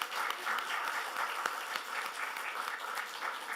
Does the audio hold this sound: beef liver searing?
no